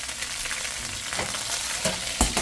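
Russian space food frying in hot oil, crackling and spattering steadily with a few sharper pops near the end, loud and close.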